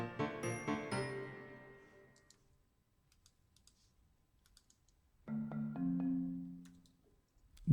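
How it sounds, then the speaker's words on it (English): Orchestral percussion plays a quick run of bright struck notes that ring and fade, a quiet gap with faint clicks, then a softer, lower marimba chord swells and dies away. "That's a marimba, actually. That's not a xylophone."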